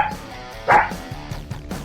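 A single dog bark sounds once, loud and close, as a short sound effect with little else around it apart from faint background noise.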